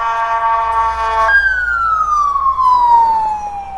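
An ambulance siren wails nearby, holding a steady tone before dropping into a long, slowly falling sweep.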